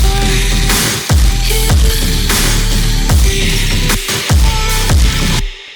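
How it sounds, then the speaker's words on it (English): Reverse kick swells rising into hits over a looping future bass drum pattern and bright synth bed, repeating roughly every second before cutting off at the end. Loud, with no talking. "reverse kick"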